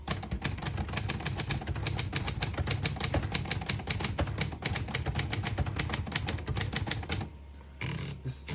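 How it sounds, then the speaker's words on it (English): Rapid, steady keystrokes clack on a 1967 Hermes 3000 portable typewriter, close and loud with no talk, breaking off briefly near the end before a few more strikes. "This typewriter gives me goosebumps when I type on it."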